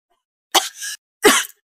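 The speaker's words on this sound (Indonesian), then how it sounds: "Batuk-batuk." Two short, sharp coughs, about half a second apart, close and fairly loud against silence.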